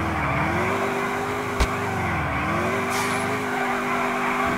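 A car drifts in the video game GTA IV with a drifting mod, its engine droning steadily with wavering pitch as tires squeal through the slide, loud and continuous with no talk.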